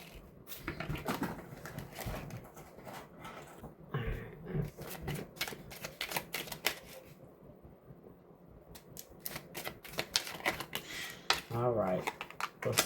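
Tarot cards shuffled and drawn during a reading, a run of quick papery riffles and flicks mixed with soft handling noise, close up, with a voice talking over much of it.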